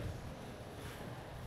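Wind blows outdoors as a steady, faint rushing buffet against the microphone, with no voices.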